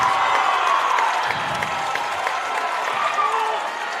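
Crowd cheering at a Springfield basketball game in a packed gym, a loud sustained roar of voices and clapping that rises and falls slightly, with a commentator talking over it.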